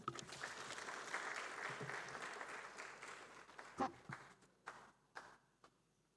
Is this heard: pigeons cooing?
no